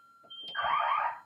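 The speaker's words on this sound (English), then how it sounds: "my parents' alarm system's going off" A home alarm system sounds a steady high electronic tone that swells into a loud, harsh ringing alarm, close and continuous, with no talking over it.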